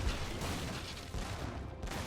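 Galleon ships firing cannons in Age of Empires III, a dense rumbling volley of overlapping booms and crackling blasts rolling on steadily throughout at moderate loudness.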